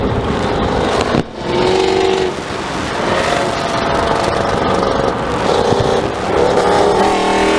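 A 5.7 Hemi V8 engine with shorty headers roars loudly and steadily close by, with the revving rising and holding for several seconds.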